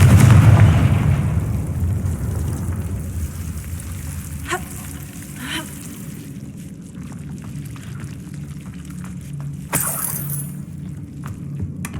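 Confringo fire-spell explosions in a Harry Potter video game: a loud opening blast fades into a low rumble, followed by a few sharp bursts spread across the rest of the clip, with no voices.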